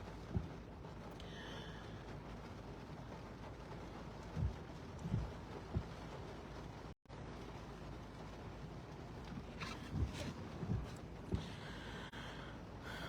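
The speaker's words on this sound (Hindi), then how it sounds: "बहुत ही बारिश हो रही है" Heavy California rain heard from inside a parked car, a dense, steady wash of drumming on the roof and windows with occasional louder spatters, continuous apart from one brief dropout.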